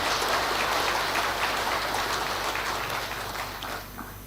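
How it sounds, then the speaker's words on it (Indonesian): Enthusiastic applause for Indonesia's president at a formal gathering of regional council chairs in Magelang, a dense, steady clapping wash that slowly fades out. "Tepuk tangan yang meriah untuk beliau."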